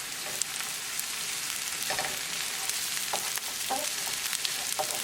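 Chopped onion sizzles in a hot pan for a chicken and aubergine bharta, a steady close frying hiss broken by occasional spatula stirs, with no talking.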